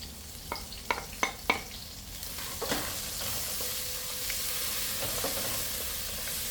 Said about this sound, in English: I'll go ahead and drop in our onion, our pimento, and hot pepper.